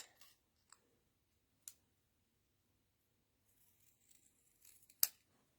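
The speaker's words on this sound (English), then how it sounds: "I'm just going to trim it just about the same size as the words" Scissors trimming a skinny strip of paper for a Stampin' Up! Peace On Earth card, giving a few short, quiet, separate snips spread across a mostly silent stretch, with a sharper cut near the end.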